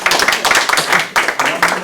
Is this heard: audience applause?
yes